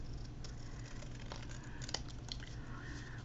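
Scissors cutting paper into a square for homemade journal decorations, several crisp snips and rustles close by, with no talking.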